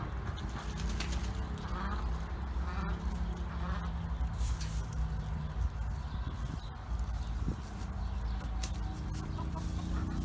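Backyard chickens clucking and calling around a feeder in a coop, a busy run of overlapping bird sounds against steady background noise, moderately close, with no talk.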